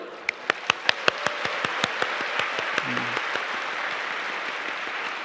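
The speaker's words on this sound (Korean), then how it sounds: "박수" A church congregation claps for several seconds, with a few sharp, loud claps standing out over steady, dense applause in a large room.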